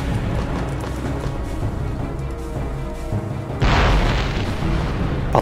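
A sudden deep boom erupts partway through, loud and close, following a steady rumbling background in the game Conflict: Desert Storm.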